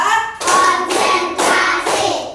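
A classroom of children doing a counting clap ice-breaker, three loud unison claps in steady rhythm, near and clear with almost no talk.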